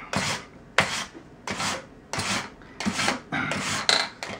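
Rasping file strokes on the felt hammers of a Steinway L piano action, seven or eight even back-and-forth scrapes in a steady rhythm, close and fairly loud with short pauses between them.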